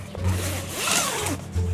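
A zipper on a Naturehike P series single-wall tent is drawn closed in several long rasping pulls. The sound is close and fairly loud, with no one speaking.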